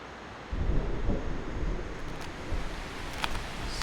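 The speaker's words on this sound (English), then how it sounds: "the storm's brewing" A low, rolling rumble of distant thunder over faint wind and rain, swelling after a quiet start and lingering.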